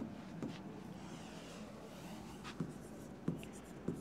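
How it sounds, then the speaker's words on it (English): Pen writing and drawing orbital shapes on a board or paper during a chemistry lesson, continuous scratchy strokes with a few sharper taps, close and fairly quiet, without talk. "Now I am going to write the shapes of orbitals"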